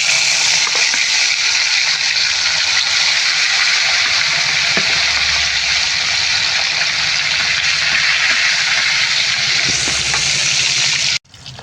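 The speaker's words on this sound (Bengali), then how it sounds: "তেলটা গরম হয়ে গেছে আমি মাছগুলো এবার একে একে ছেড়ে দেবো" Pieces of rohu fish fry in hot white vegetable oil, a loud, steady, close sizzling hiss that holds without a break until it cuts off abruptly near the end.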